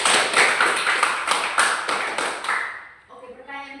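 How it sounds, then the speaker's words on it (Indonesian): Applause from pupils in a classroom, a dense burst of many hands clapping that fades out after about three seconds as a voice begins speaking. "tepuk tangan untuk Indah"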